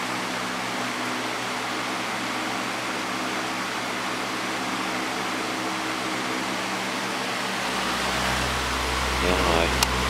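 A Patton fan with a 1.25 amp PSC motor hums steadily on medium speed, a soft continuous rush of air with a low motor tone that swells slightly toward the end; a voice speaks briefly.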